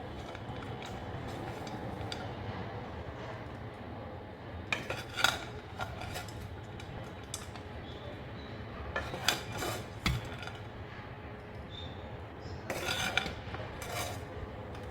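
Cooked rice being mixed in a pan for fried rice, a steady scraping and stirring with sharp metal clinks of a utensil against the pan in short bursts, close by.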